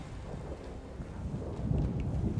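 An approaching thunderstorm in the fantasy video game Elder Scrolls Online, a continuous low rumble of thunder with rain and wind noise that swells slightly toward the end, steady and without speech.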